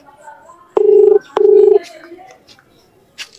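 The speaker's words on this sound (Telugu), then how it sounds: "ఇప్పుడు రింగ్ అవుతుంది." A phone call's ringback tone sounds close and clear as two even beeps with a short gap between them, followed by faint background murmur and a soft click.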